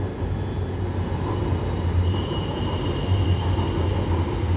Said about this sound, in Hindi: ये देखो मेट्रो आई